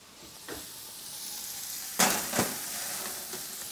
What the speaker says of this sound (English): I can already hear my cauliflower beginning to come together.